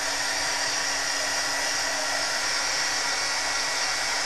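A hair dryer blows steadily and loudly on alcohol ink art made with a stencil, a constant broadband whoosh with a low motor hum underneath, running unbroken and with no talking.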